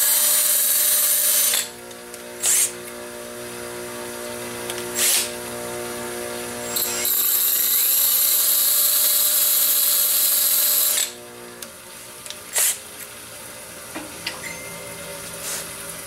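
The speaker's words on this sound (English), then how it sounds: "So I'm just going to take this over to my bench grinder." A bench grinder grinds a steel taper held at a steep angle, the work pressed in for long stretches of harsh, high grinding, with several short contacts and a continuous motor whine in between.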